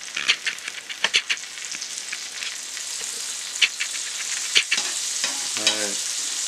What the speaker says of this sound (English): See how lightly the butter's sizzling?